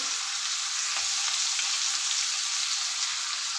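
Dry ground spices such as cumin fry in hot oil for a vegetable dal, giving a steady, close sizzle with faint scraping of stirring throughout and no talk.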